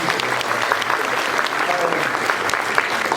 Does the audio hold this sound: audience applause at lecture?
yes